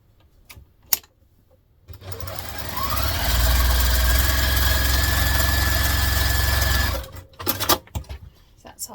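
A sewing machine stitches the zipper pocket of a hobo bag, running in one steady loud whir for about five seconds, with a few clicks and handling knocks before and after.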